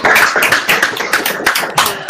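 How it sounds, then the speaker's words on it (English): A small online audience gives a round of applause at a university CubeSat keynote, clapping in uneven, close bursts that thin out toward the end, with no voices over it. "I would like to hear everyone giving a big round of applause"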